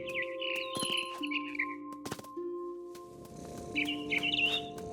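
Mother bird in the video game What Remains of Edith Finch chirps in short, bright tweets and whistled calls over a steady game ambience with held tones, nearby and fairly clear, with a few clinking sounds mixed in.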